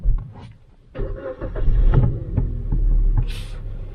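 A 2011 Kia Ceed under repair for electrical and ABS faults pulls away, its engine rumbling up and holding a steady low drone with a brief higher noise near the end.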